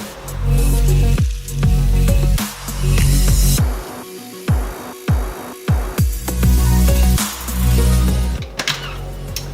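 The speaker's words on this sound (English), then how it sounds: "I'm gonna add in the cashews and blend all this up now." A blender pulses cashews for vegan, gluten-free protein energy bites, a loud whirring motor that surges in repeated short bursts and winds down between pulses.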